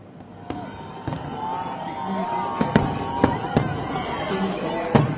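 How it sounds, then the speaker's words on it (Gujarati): Firecrackers bursting outdoors during a street celebration of an India cricket win, a series of sharp, loud cracks at irregular intervals over a dense crowd murmur. "ફટાકડા ફોડવામાં આવી રહ્યા છે અને પ્રકારે પોતાની લાગણી છે તે વ્યક્ત કરી રહ્યા છે"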